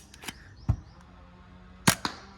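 An M1911 gel blaster pistol fires, giving sharp, snappy cracks: one shot, then a closer double of quick reports, with faint clicks between them in a quiet setting.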